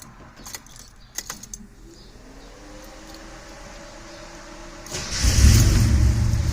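Datsun 280ZX cold start: keys jangle and the ignition clicks, then the engine cranks and catches, rising to a loud, steady idle close by, with no voices.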